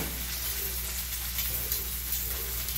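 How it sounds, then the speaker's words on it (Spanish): Green beans frying in a pan, giving a steady, even sizzle at moderate volume with no talk over it. "Es cantadoso lo frito"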